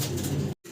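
Blue barless racer pigeons, a master pair with their young, coo steadily and close for about half a second before a brief silence, then the cooing resumes softly.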